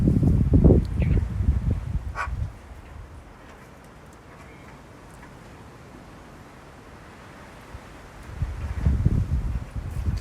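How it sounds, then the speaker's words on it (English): Outdoor wind buffets the microphone in loud, rumbling gusts, eases to a steady low rush, then gusts hard again near the end. "I'm ready for this wind to die down though."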